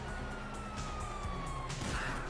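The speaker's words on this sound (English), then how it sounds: "Hear that? Sirens!" In Grand Theft Auto V, a police siren wails with a slowly falling tone over steady background noise, sounding somewhat distant.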